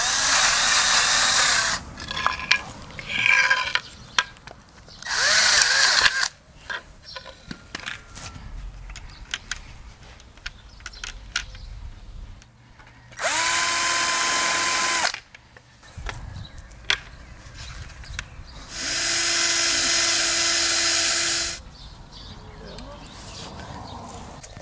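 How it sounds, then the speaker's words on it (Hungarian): A power drill drives screws into pine slats while a planter box cover is built, sounding in four loud, steady whirring bursts of a few seconds each. Someone talks between the bursts. "Egy kicsit meghúzzuk a csavarokat, nagyon nem kell, mert ugye fenyővel dolgozunk"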